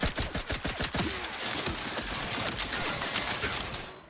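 Gunfire in The Outer Worlds 2 as the player shoots down turrets: rapid volleys of close, sharp shots, clearly separated at first, then blurring into a dense, continuous rattle that trails off at the end.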